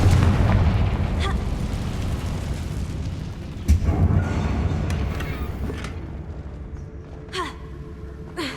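A Confringo blasting spell explosion in the video game Hogwarts Legacy, a heavy rumbling burst that decays slowly, with a sharper pop midway and faint crackling debris trailing off.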